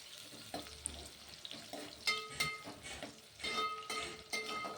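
Chopped onion frying in a pan for Kolhapuri-style mutton tambda rassa: a soft, steady sizzle with occasional stirring scrapes and clinks, fairly quiet and close, with no talking.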